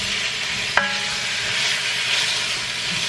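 Food browning in olive oil in a pot for a one-pot meal gives a steady, close frying sizzle and hiss, with one brief stir or clink of a utensil near the start and no talk.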